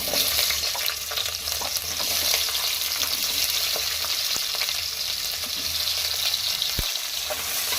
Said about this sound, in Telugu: ఇవి రెండు నిమిషాల పాటు వేయించుకున్నామండి